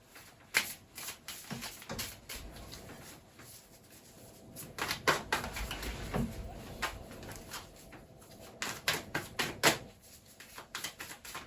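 Tarot cards being handled and laid down, one over another during a reading, giving a run of close, sharp papery slaps and shuffling flicks in irregular clusters.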